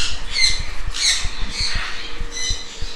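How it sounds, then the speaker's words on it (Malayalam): Talking parrots at a pet station in Kannur squawking loudly and close, a rapid series of harsh repeated calls over a few seconds with no voices. "അതിനോടൊക്കെ വർത്തമാനം പറയുന്ന തത്തകളാണ്."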